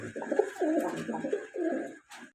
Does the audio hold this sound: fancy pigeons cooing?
yes